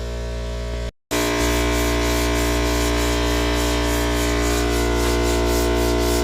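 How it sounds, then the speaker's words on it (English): Sandpaper smooths a Mustang hood scoop with continuous, close, gritty back-and-forth rubbing, broken by a brief gap near the start, then steady to the end. "This is Junior sanding and smoothing his hood scoop while the hood dries."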